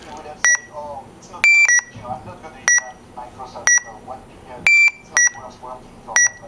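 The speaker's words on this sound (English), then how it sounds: "The last beep is a higher tone, so it's distinctive." A handheld lap counter beeper sounds a series of short, sharp electronic beeps in quick groups, the final beep pitched higher than the rest, with a person talking between the beeps.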